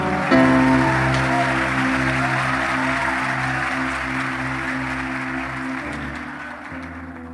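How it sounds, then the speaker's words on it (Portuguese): A church congregation applauds during a sermon, producing a steady wash of clapping over sustained keyboard chords that keep sounding throughout, slowly fading toward the end. "Dê uma salva de palmas para Jesus."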